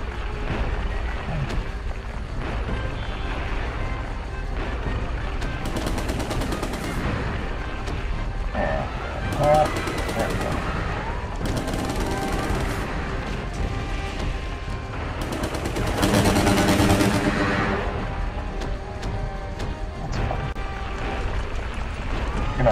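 Dense video game gunfire and explosions from Kaiju-a-GoGo fill the mix, with rapid bursts, booms and shifting mechanical effects layered over game music, loud and continuous throughout.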